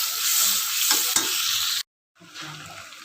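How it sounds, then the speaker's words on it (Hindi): Finely chopped garlic fries in butter in a pan for Manchurian gravy, with a loud, close, hissing sizzle and stirring scrapes, a brief silence, then quieter sizzling resuming. "और इसी बटर के साथ हम इसके अंदर ये लहसुन जो हमने बारीक बारीक सी काट के रखी है वो डाल के, और इसको हम हल्का सा फ्राई कर लेते हैं"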